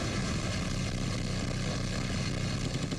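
A helicopter in the video game 007 Everything or Nothing drones steadily, a dense continuous engine and rotor roar with no talk over it.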